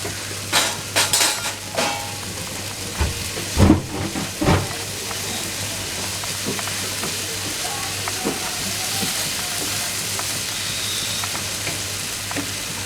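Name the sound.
dried prawns (sukhi karandi) cooking on low heat in a pan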